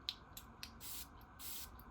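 Several short hissing bursts from a men's fragrance atomizer, including a Dua fragrance, sprayed close up in a quiet room, with brief puffs followed by two longer sustained sprays.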